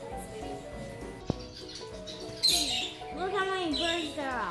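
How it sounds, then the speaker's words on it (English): Many birds chirping and tweeting indoors at a pet store, a busy overlapping chorus of varied calls, mixed with people talking nearby. "Look how many birds there are. A lot of birds."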